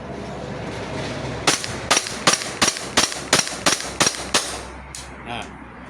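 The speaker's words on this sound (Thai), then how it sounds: "มายิงให้หมดแม็กนะครับ" An Umarex Glock 17 Gen5 BB pistol empties a full magazine in about ten sharp, evenly spaced shots. Each crack comes with a snapping slide, close and loud over a low background hum, and the slide then locks back.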